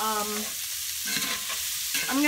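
Dinner being stirred as it fries in a pan while broccoli and sausage are made, giving a close, steady frying sizzle with brief scraping stir sounds and no speech.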